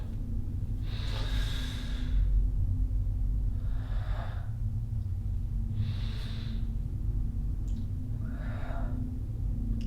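A person performs a breathing technique, drawing full deep inhales and releasing partial exhales: four or five distinct airy breaths spaced about two seconds apart, close and clear over a low steady background hum.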